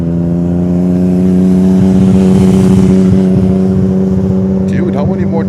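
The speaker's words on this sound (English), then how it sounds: "How many more times do you wanna drive by my microphone?" A car passing close to a roadside microphone near an airport, its loud engine droning steadily and rising as it goes by, with the rumble filling the whole stretch.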